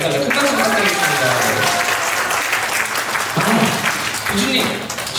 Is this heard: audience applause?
yes